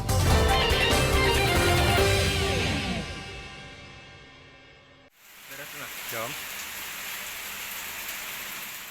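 Heavy rain pours in a dense, steady hiss that fades out, then a cut to softer rainfall on surfaces with scattered drops, continuous and enveloping.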